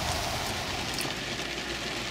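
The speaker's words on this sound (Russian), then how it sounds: "Когда закончится этот дождик, хрен его знает." Steady rain falls outdoors at a campsite where smuggler oil storage and illegal fuel production were found, a constant dense hiss of drops on surfaces filling the whole stretch with no voices.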